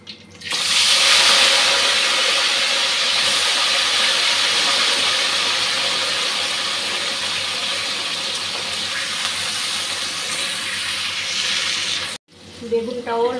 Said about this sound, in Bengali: এখন বেগুনটা আমি অল্প ভেজে নেব।